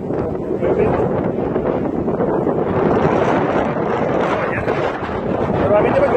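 Strong wind blusters over the sand dunes of Punta Gallinas in La Guajira, Colombia, a loud continuous roar buffeting the microphone and filling the whole stretch.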